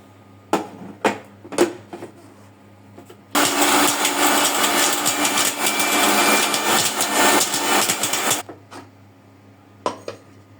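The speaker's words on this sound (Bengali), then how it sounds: "এখন এটা আমি ব্লেন্ডারে ব্লেন্ড করে নিব" A blender whirs loudly for about five seconds blending chutney, a harsh steady roar, between scattered clinks and knocks of kitchenware.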